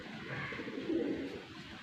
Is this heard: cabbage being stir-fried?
no